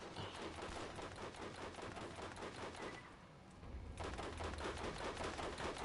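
Gunfire in the video game Borderlands 1: dense, rapid, loud shots in a continuous stream, briefly thinning for about a second before resuming at full intensity.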